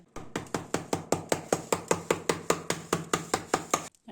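Clay-baked chicken in a cracked mud crust being broken open, heard as a fast, steady run of sharp cracking knocks, about four per second, close and loud, with no voices.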